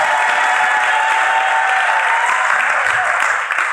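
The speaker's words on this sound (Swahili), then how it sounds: "Naomba tumshangilie Dini jamani kwa makofi mengi." Church congregation clapping for a retiring dean, loud, dense and steady applause with faint cheering mixed in, close and continuous throughout.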